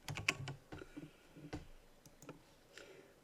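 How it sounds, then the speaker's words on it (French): Faint computer keyboard typing heard close up, a quick burst of clustered keystrokes followed by a few sparse, soft clicks. "Clavier."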